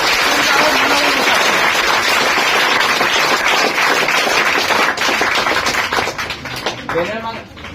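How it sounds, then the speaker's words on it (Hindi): Loud, dense applause from an audience welcoming a student topper at a Bihar Board results celebration, continuous crackling claps filling the room and tapering near the end, with voices underneath. "इस सोनू भाई के लिए कहीं ना कहीं एक बार जोरदार ताली का और स्वागत करिए।"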